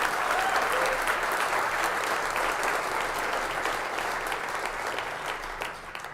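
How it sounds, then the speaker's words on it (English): Audience applause at a political talk, a continuous dense wash of clapping from a large crowd that fades slightly toward the end. "I think we should give them a round of applause for that."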